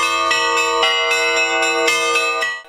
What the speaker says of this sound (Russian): Колокольным звоном, цветами и подарками встречали прихожане Свято-Анастасиевского храма епископа Новороссийского и Геленджикского Фе